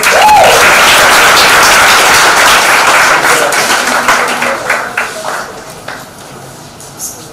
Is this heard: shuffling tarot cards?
no